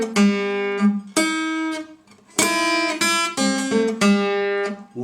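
A blues guitar plays a Delta lick, five distinct plucked notes ringing one after another with clear attacks and sustained tones, close and alone.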